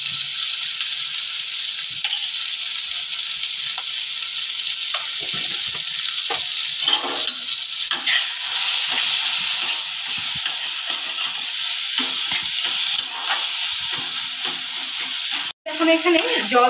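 Kochur loti (taro stolons) fries with spices in oil, a steady bright sizzle running throughout, broken by occasional scraping stirs of the spoon in the pan.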